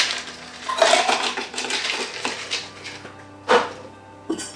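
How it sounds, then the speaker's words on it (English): Ice cubes tumble and clatter into a cocktail shaker for a mojito, a dense rattling of hard pieces against metal with a couple of sharper knocks near the end, close up and with no talking. "Let's add some ice."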